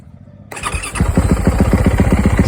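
A 2019 Yamaha YZ450F motorcycle engine fires up after half a second of near silence, then settles into a loud, steady, close idle with a rapid, even thumping pulse.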